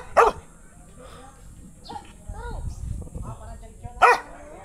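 A dog gives two sharp, loud barks a few seconds apart, with softer whimpers and yips between them and people talking nearby.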